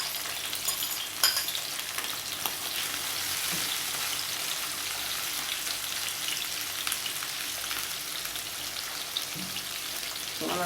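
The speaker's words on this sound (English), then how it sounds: "So I'm going to saute that" Cabbage and carrots sautéing in a pan, a steady soft sizzle with light stirring scrapes throughout, fairly quiet and continuous.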